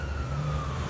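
A loud ambulance siren holds a steady, gradually falling wail over a heavy rumble of traffic and engine noise, close by and filling the whole moment.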